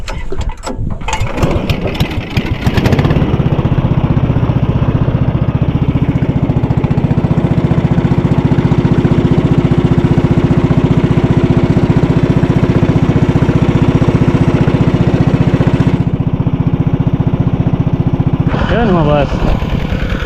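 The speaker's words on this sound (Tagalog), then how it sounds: "Pandar na natin yung makina" A small farm engine is pulled into life with a few rough sputters, then settles into a loud, steady, close running drone before easing briefly near the end as a voice speaks.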